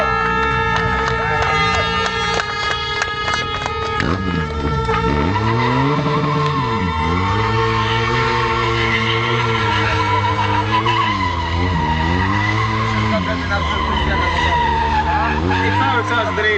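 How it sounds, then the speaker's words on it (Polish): A motorcycle engine revs hard while the rear tire squeals in a long, continuous skid as the stunt rider drifts sideways on the rear wheel, rising and falling with the throttle, close and loud. "piękny drift motocyklowy, za bokiem w użyciu tylnego koła"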